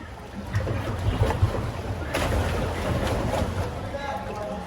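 A boat engine hums steadily with water rushing and wind buffeting the microphone, loud and close, with voices faintly under it.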